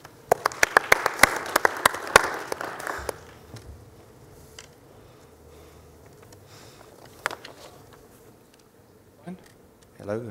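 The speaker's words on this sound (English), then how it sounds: "So a round of applause as we welcome onto stage STEPHAN." Scattered, sparse audience applause at a conference talk, a few close hand claps for about three seconds fading into quiet room noise with occasional isolated claps.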